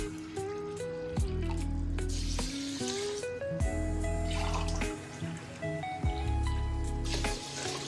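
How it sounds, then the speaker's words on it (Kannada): Water is poured in several glassfuls into a pot for jeera rice, splashing and gurgling in repeated pours with drips between, close and moderately loud. "ಈ ಗ್ಲಾಸಲ್ಲಿ ಐದು ಕಾಲು ಗ್ಲಾಸ್ ಅಷ್ಟು ನೀರು ಹಾಕ್ತಾಯಿದ್ದೀನಿ"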